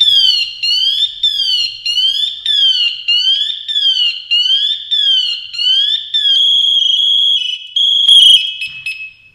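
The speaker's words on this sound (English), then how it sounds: "let the system go into, the pass alarm go into activation mode" A Scott breathing apparatus PASS alarm goes into full activation, sounding a loud, close, high-pitched warbling tone that pulses rapidly and repeatedly, then shifts into steadier electronic beeps and chirps near the end.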